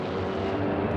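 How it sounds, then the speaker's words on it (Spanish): Attacking aircraft over Pearl Harbor, a continuous dense roar of propeller engines, loud and steady throughout the second without any gaps or talk. "Los aviones atacan primero Wheeler Field, la base del norte de la isla"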